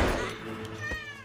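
A cat meows in the film American Psycho, a single drawn-out wavering cry that is fairly loud and close over a low background hum.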